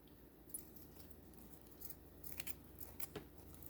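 Small scissors snipping fairy silk fibres on a starfish necklace, several faint, quick close-up cuts spread over a quiet background.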